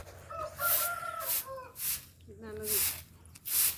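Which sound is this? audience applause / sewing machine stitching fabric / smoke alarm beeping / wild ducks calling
wild ducks calling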